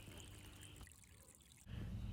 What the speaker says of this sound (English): the valve is still open and draining away the dirty water